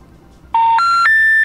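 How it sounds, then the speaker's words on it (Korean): Three short electronic dialing tones sound in quick succession, each stepping higher in pitch, loud and close, as a phone call is placed. "제가 이번에 전화를 한번 해볼게요."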